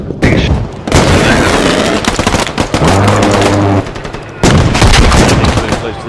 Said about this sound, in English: I got shot by a tank